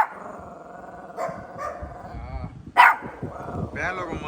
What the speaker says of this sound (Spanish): alcanzan a ver algunos perritos callejeros